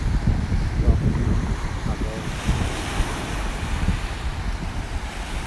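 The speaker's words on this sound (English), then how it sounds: "It's certainly a beautiful beach anyhow." Surf rolls in steadily with wind gusting over the microphone at Praia do Espelho beach near Trancoso, Bahia, Brazil, a continuous loud wash of waves and wind with no talk.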